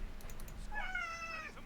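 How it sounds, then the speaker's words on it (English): A house cat meows for attention once, a drawn-out rising and falling call heard close but soft, with a few light clicking taps just before it. "Because he likes to go meow when he wants attention."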